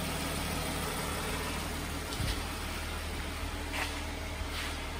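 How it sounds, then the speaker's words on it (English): A 2012 Jeep Grand Cherokee with light front-end damage idling: a steady, even engine hum with a constant low drone and no revving, heard on its own. "Engine sounds real nice."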